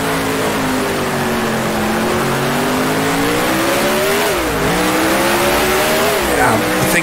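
Race car engine in Grand Prix Legends, apparently the Repco V8 Brabham in a 1966 French Grand Prix race. The loud engine drone drops through the gears, with pitch steps and blips as it downshifts, under steady road noise.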